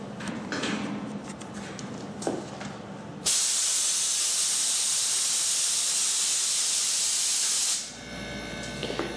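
A homemade silent air compressor starts back up with a sudden, steady broadband hiss that runs evenly for several seconds and then drops off sharply. Quieter mechanical noise comes before and after it.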